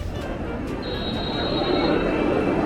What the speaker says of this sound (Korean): 저희가 탈 정선 아리랑 열차입니다.